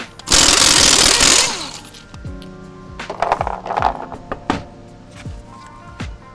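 A pneumatic impact wrench rattles loudly in one long burst, spinning a lug nut off a wheel of a 2015-2020 GMC Yukon, followed by metallic clinks and short tool bursts as the nuts are handled.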